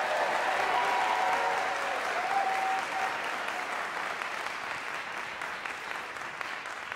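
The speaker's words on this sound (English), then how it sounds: "more round of applause for our percussion ensemble." Loud sustained audience applause after a high school percussion ensemble's performance at a fall instrumental concert, a dense continuous roar of clapping that slowly tapers.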